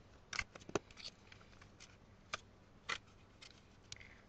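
Paper being folded into a paper airplane gives soft, sparse crinkles and sharp creasing snaps spread over a few seconds, close by and quiet, with no talking.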